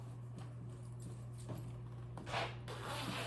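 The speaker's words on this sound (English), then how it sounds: "And zips." A zipper runs up a long small-size vest by Dex during a clothing try-on, a short rasping burst near the end heard up close over a steady low hum.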